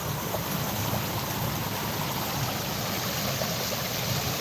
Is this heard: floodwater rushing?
yes